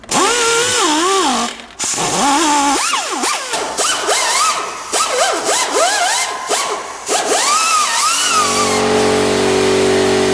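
A pneumatic air tool scours the gasket surface of an engine block on a 2002 Chevrolet Cavalier during a water pump replacement, whining up and down in pitch in repeated bursts, then settling into a steady hiss near the end.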